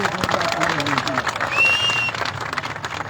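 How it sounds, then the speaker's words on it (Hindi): A crowd at an unemployed youth association rally claps for Bhupendra Koranga, a moderate patter of applause running beneath a speaker's voice and other voices. "भूपेंद्र कोरंगा जी के लिए भी एक जोरदार तालियां होनी चाहिए साथियों, जोरदार तालियां होनी चाहिए"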